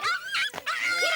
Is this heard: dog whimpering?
yes